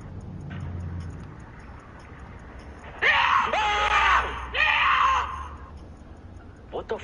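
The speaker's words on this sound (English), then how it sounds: "What the fuck was that scream?" A video game scream rings out in two harsh, piercing bursts midway, each about a second long, loud over a quiet, rumbling background with faint voices at the start.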